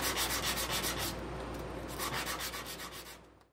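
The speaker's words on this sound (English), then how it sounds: "I sanded all those little pieces" Steady rasping sandpaper strokes rubbing against small wooden puzzle pieces, a rhythmic back-and-forth scrub that pauses briefly midway before resuming, close and continuous.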